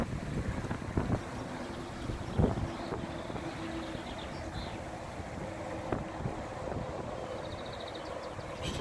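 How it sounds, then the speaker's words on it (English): Wind blows across a fishing lake and buffets the microphone in a steady, rumbling rush, with a few louder gusts and faint background knocks, and no one speaking. "It's a bit blowy, less sunny today."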